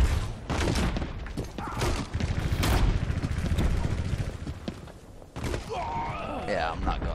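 Rapid gunfire and explosions from the video game Overwatch pour out as a dense, loud barrage of shots and booms, followed by a short lull and then whirring electronic effects, with people talking over the action.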